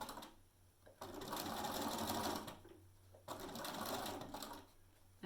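A sewing machine stitches slowly over the fin of a mermaid tote bag, running in two sustained bursts of rapid needle chatter with brief pauses between, close and quiet.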